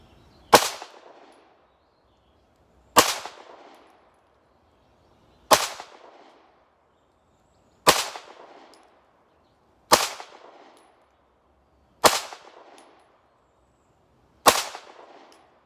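Seven single pistol shots from a Taurus GX4 XL, each a sharp crack with a short decaying tail, spaced about two seconds apart and isolated against near-silence.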